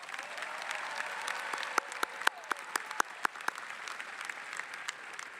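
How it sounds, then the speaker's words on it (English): An audience at a high school graduation claps steadily for graduating students, a dense, moderately distant round of applause with a few sharper nearby claps standing out. "Guys, give these guys another round of applause."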